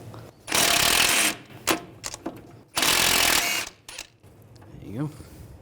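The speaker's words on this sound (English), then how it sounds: "We're going to take this nut off. Use a 14mm socket." Two loud bursts of ratcheting from a 14mm socket wrench loosening a nut on a 2011-2017 Nissan Juke steering rack, each about a second long, separated by short metallic clicks and clanks, with a brief voice afterward.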